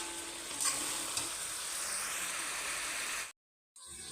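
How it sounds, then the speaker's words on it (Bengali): Meat sautéing in a pan with ginger and garlic paste, giving a steady, close hiss of frying with a few faint stirring scrapes, before a brief cut to silence near the end. "এখন একটু আদা বাটা রসুন বাটা দিয়ে কষিয়ে নিচ্ছি"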